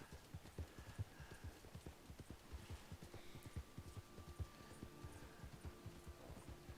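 Horse hooves clip-clop in a steady, even rhythm in the Red Dead Redemption 2 Online video game, with faint tonal ambience underneath.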